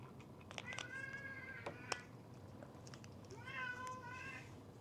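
A cat meows several times at close range in a quiet indoor room, with drawn-out tonal cries in two separate clusters and no talking over them.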